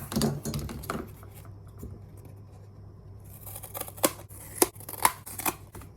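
Scissors cutting out a paper template for a bottlecap blaster craft: a soft rustle at first, then a quiet stretch, followed by a few crisp snips and paper crinkles close by.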